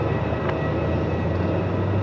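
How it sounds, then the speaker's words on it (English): A Qantas airliner rolls for takeoff at Melbourne Airport, bound for Adelaide: a steady, loud low roar of engine noise fills the whole stretch without letting up, with no talk over it. "Qantas 691 now rolling, heading to Adelaide"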